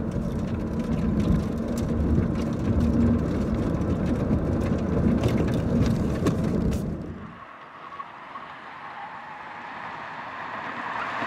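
Volkswagen e-Golf electric car accelerating, a loud steady rush of road and wind noise that cuts off abruptly into a quieter, faint hum.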